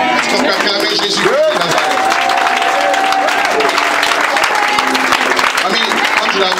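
A church congregation applauds to acclaim Jesus: steady, loud clapping and crowd noise fill the whole stretch, with voices ringing out over it.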